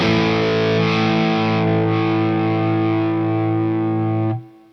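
An electric guitar played on the middle and neck pickups through a brittle distortion patch holds one loud, buzzing, sustained chord for about four seconds, then the sound is cut off.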